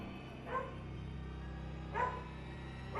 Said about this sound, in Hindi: खिड़की के बाहर एक कुत्ता उसे देख बार बार भौंके जा रहा था।